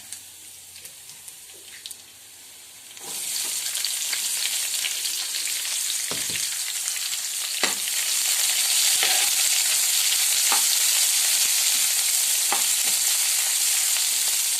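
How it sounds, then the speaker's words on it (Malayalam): Onion and green chili dropped into hot oil for chicken curry raise the sound from quiet clinks to a loud, steady sizzle with occasional stirring taps, close and without talk. "ഇനി നമുക്കിതിലേക്ക് സവോള ഇട്ട് കൊടുക്കാം സവോള പച്ചമുളക് എന്നിവ"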